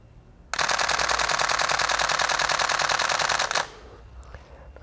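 Canon 1D Mark IV shutter firing a continuous high-speed burst, a dense rapid mechanical rattle lasting about three seconds, close and loud, then stopping abruptly with faint handling clicks after.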